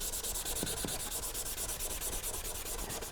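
A rough Scotch-Brite pad rubs hard wax oil into white oak in quick, steady back-and-forth strokes, a close, soft scratchy scrubbing that repeats evenly throughout.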